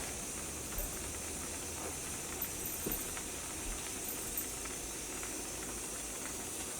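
Milk boils in a pot on the stove, giving a steady close hiss with faint bubbling patter throughout and no talking.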